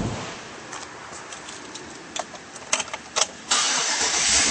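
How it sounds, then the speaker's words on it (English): A 2009 Chevrolet Avalanche being started, a few clicks and short cranking bursts, then the engine catches and settles into a loud, steady idle nearby. "and now we'll start up this Avalanche."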